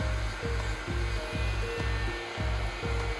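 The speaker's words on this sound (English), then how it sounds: "So we take the heat gun, heat it up right here." A heat gun blows steadily while warming a plastic pipe for bending in a 45-degree jig, a close, continuous whooshing hum with a regular pulsing pattern and no voices.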